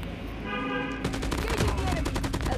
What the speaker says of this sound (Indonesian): Musuh tembak dia.